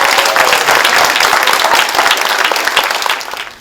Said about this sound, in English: how about a round of applause for our crack education staff?